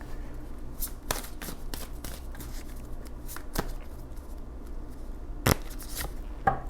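Tarot cards being handled and shuffled, with soft papery riffles and several sharp card snaps spaced irregularly, close and fairly quiet with no talk.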